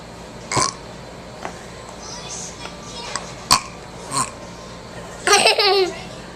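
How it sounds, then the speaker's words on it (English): A three-year-old boy lets out several short burps spaced through the moment, close and loud, mixed with giggling and brief bits of child chatter. "Can you burp again?"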